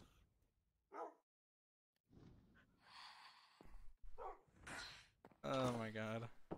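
Pet dogs in the Minecraft video game give short barks and yips in scattered bursts, mixed with people chatting over them.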